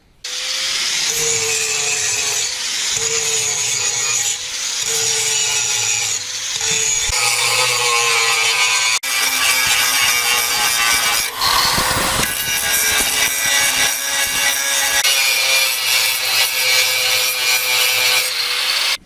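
Angle grinder grinding off rough welds on a Jeep Comanche pickup during a V8 swap, a loud continuous abrasive whine with short pauses and changes in pitch as the disc bites into the metal, close up and with no talking.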